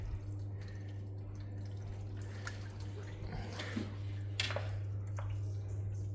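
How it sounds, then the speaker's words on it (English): Water poured over the bulkhead of a Mercedes R107 while checking for a footwell leak, giving soft splashing and dripping bursts over a steady low engine-like hum outdoors. "So let's pour a bit of water."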